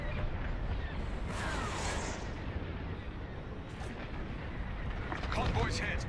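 In the Star Wars Squadrons video game, a missile strikes a convoy with a deep, rumbling explosion that rolls on under radio chatter and cockpit noise, with a few sharper blasts near the end.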